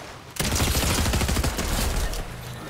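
Rapid bursts of mythic pistol gunfire in the Fortnite video game, dense cracking shots firing close and loud in a sustained volley with no talking.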